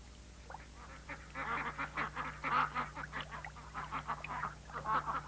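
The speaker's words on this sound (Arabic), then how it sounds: "بطة." Repeated, fairly faint duck quacks come in quick nasal bursts over a steady low hum, continuing through most of the clip.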